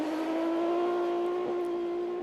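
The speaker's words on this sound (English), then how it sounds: "The wailing engine of the normally aspirated Audi A1 Quattro of Nathaniel Berton." A normally aspirated Audi A1 Quattro rally car wails at high revs, a bright sustained engine note held steadily at some distance, fairly faint and continuous.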